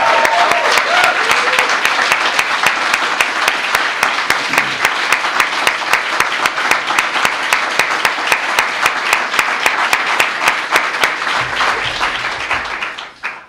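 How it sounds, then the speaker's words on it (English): Sustained applause from a crowd, many hands clapping steadily for over ten seconds before fading out at the end. "I just want to hear a loud applause for our teachers"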